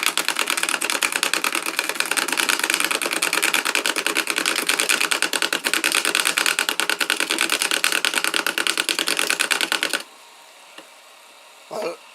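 A homemade shredder driven by a car wiper motor chews through 3D-printed PLA parts with a loud, rapid, rattling clatter for about ten seconds, then stops abruptly, leaving near silence with one brief faint noise.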